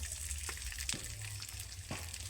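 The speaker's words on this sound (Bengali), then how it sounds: "বাদামের সঙ্গে কারি পাতাটা ভেজে নেওয়াটাই ভালো" Curry leaves frying with peanuts in hot oil give a steady, close sizzle, with a few brief stirring knocks against the pan and no voices.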